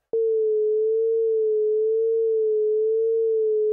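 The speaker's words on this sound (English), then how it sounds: "It's a low frequency oscillator. We're starting to get what would be like a vibrato effect." Dexed DX-7 emulation synthesizer holding a single steady tone with gentle low-frequency oscillator vibrato, a slow regular wobble in pitch, clean and alone for a few seconds.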